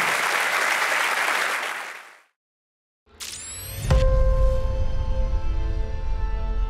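Loud crowd applause for Jenson Button cuts off abruptly into about a second of silence, followed by a rising electronic whoosh and a deep sustained tone with a bright ringing note.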